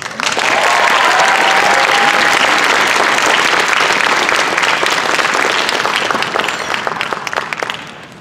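Sustained applause from a large audience at a high school awards ceremony honoring class of 1977 scholarship recipients, steady dense clapping for about seven seconds before tapering off at the end.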